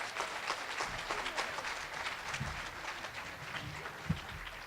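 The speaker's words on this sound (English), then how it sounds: "let's give them all a good round of applause" An awards ceremony audience in a school district event gives a fairly quiet, moderately dense round of clapping, steady throughout with a few louder individual claps and faint crowd murmur beneath.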